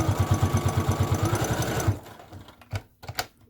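A sewing machine topstitches along the edge of a fabric dog leash in a fast, even run of needle strokes for about two seconds, then stops, leaving a few faint clicks and handling sounds.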